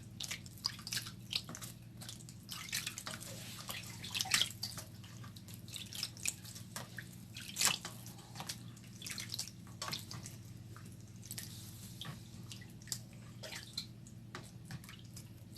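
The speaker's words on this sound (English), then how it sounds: "I finished dicing my meat, so I'm rinsing it for the last time before cooking" Diced meat being rinsed in water while preparing a meat-filled pepper soup, with scattered drips and small splashes over a steady low hum, fairly faint and without talk.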